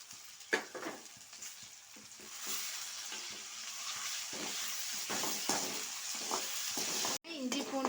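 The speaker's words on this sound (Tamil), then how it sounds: "இஞ்சி பூண்டு பேஸ்ட் போட்டு கொஞ்ச நேரம் வதக்கலாங்க" Ginger garlic paste is sautéed with onions in a pan, giving a quiet, close sizzle broken by repeated stirring scrapes and clicks of a spoon against the pan, with a soft knock near the end.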